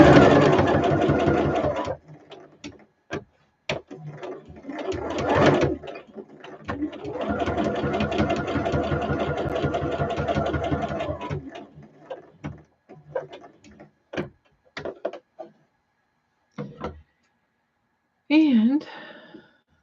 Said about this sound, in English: I think I need a new needle in my machine